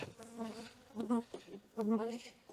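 Honeybees buzz around an opened hive during a spring inspection after winter, a close, wavering drone that swells and fades in several bursts over a few seconds.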